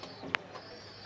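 Pigeons in a backyard loft give a soft coo and one sharp, brief call, close by and alone over a quiet background.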